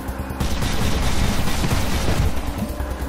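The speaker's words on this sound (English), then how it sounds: "Our heavy weapons specialist advances and takes a shot." Heavy weapon gunfire in the video game Wasteland 2, a dense burst of booming shots and rumbling impacts that roars loudly for a couple of seconds before easing off.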